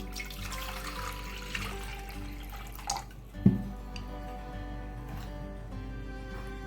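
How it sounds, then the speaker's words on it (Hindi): Water is poured for a sattu drink mixed with pink salt and lemon juice, with close splashing and dripping, a louder splash midway, then trickles tapering off. "ये 2 गिलास पानी डालेंगे हम।"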